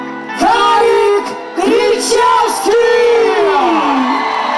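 An outdoor crowd at a district anniversary celebration whoops, yells and cheers for a performer taking the stage, with loud sustained shouts rising and falling in several waves.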